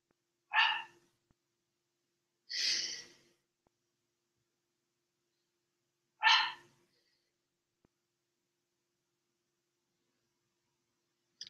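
A dog barks three times at irregular intervals, single sharp barks with long silent gaps between, heard at moderate distance in an otherwise quiet room.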